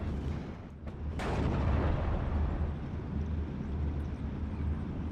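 A gun fires in the Steel Division: Normandy 44 World War II strategy game, likely a 6-pounder anti-tank gun: one sharp, loud blast followed by a long, low rumbling roll of battle ambience with no talk.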